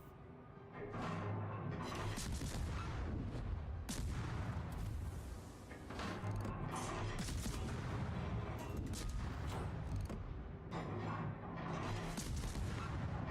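Naval guns fire in a warship video game, producing repeated heavy booms and blasts over a constant rumbling background, fairly distant and muffled, at irregular intervals.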